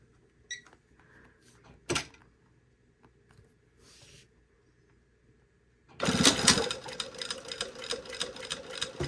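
A hand-cranked sewing machine is pushed through thick fabric on a jacket body and collar. After several seconds of faint, scattered clicks and knocks, a loud, dense, rattling run of stitching starts and carries on to the end.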